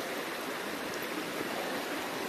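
A forest stream swollen after rain rushes steadily past, a dense, even wash of flowing water with no breaks, heard alone without any voices.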